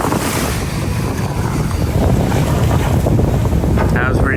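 Loud rushing wind and churning water from a small boat crossing the sea to Bali, Indonesia, a constant roar with engine rumble underneath.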